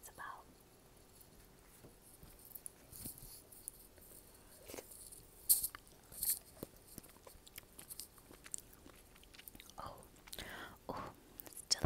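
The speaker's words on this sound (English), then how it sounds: "I'm gonna go ahead and take a bite of onion first." Raw onion is bitten and chewed between mouthfuls of cheesy Samyang noodles, heard as soft, close crunches and wet chewing at a quiet, whisper-level volume with brief whispered talk.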